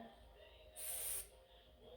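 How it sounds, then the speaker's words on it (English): Brake cleaner sprays in one short, close, sharp burst lasting about half a second onto a 2003-2013 Toyota Corolla engine during intake manifold gasket work, standing out against a quiet background. "Spray some brake clean."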